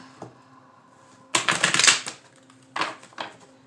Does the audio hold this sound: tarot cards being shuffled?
yes